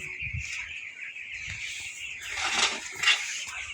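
A dense flock of 17-day-old broiler chickens in a poultry shed peeping and clucking together in a continuous, busy din, with no single bird standing out.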